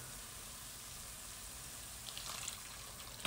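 Boiled water poured into a pot of rice, carrots and mixed vegetables gives a faint, steady hiss and gentle liquid rush, picking up slightly toward the end, with no talking.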